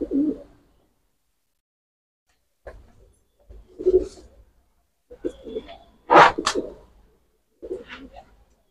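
Pigeons in a loft give soft, low cooing calls in short separate bursts, close by with quiet gaps between them, and one brighter, louder call partway through.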